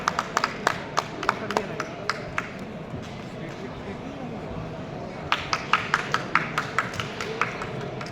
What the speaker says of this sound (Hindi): तालियों की गड़गड़ाहट बनी रहे